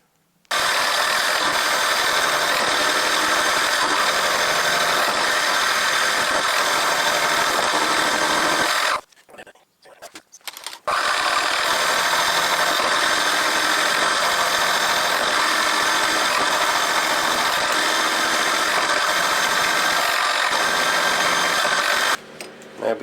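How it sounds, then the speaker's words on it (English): A milling machine cuts and drills steel stock for a Hemingway ball turning tool kit, running as a loud, continuous mechanical whir that stops briefly partway through and then resumes. "we'll start milling out and drilling out and putting the dovetails in"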